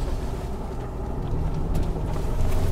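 A 2021 Ford Bronco turning tightly on a sand trail, a steady low engine rumble and drivetrain drone heard from inside the cabin, continuous with faint clicks, no talking.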